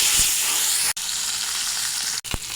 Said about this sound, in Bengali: এখন মাছ ভেজে নেব, তার জন্য সর্ষের তেল দিলাম